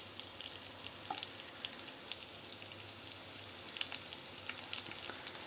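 Chopped onion frying in hot oil for bisibela bath, a steady crackling sizzle with a few sharper pops, continuous and close throughout with no voices.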